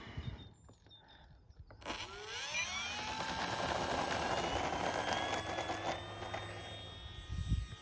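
An E-flite Mustang model airplane takes off: after a quiet start its motor surges into a loud, rising whine that climbs in pitch and holds steady as it speeds away, with a faint rustle near the end.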